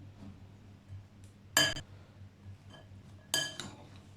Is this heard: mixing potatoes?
yes